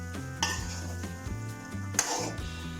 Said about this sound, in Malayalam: ഇതിലേക്ക് വെജിറ്റബിൾസ് കൊണ്ട് ഇട്ട് കൊടുക്കാം. ഇതെല്ലാം കൂടി ഒന്ന് മിക്സ് ആവട്ടെ.